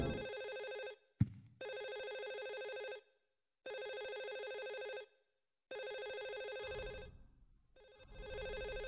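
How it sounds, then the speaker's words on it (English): Phone ringing in Silent Hill 4, a steady electronic ring repeating in four long bursts with brief gaps between, clear and alone over a faint low rumble. "There's a phone ringing somewhere."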